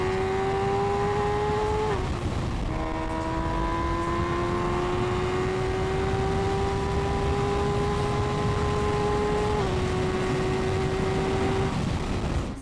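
An MV Agusta Brutale 1000RR sport motorcycle engine revs high, holding a steady whining pitch that climbs slowly, with two brief shifts where the tone drops and resumes, loud and continuous throughout.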